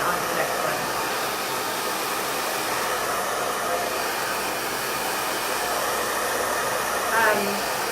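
A hair dryer blows with a steady, loud whooshing roar throughout, unbroken and close by.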